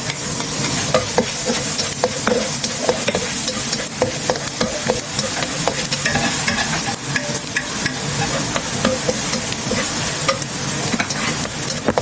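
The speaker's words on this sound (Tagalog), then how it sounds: "gisa na natin tong bawang" Garlic sizzles in a hot pan for fried rice while a utensil stirs and scrapes it. The frying hiss is loud and continuous, with frequent close clicks of the spatula against the pan and no talking.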